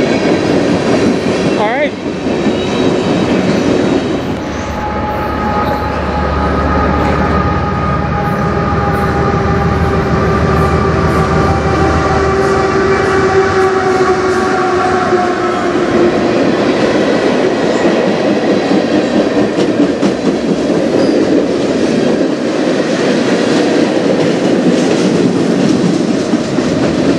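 A CN freight train rolls past on the Strathroy Subdivision, a loud, continuous rumble of railcars with steady clickety-clack and faint wheel squeal throughout, close by and unbroken.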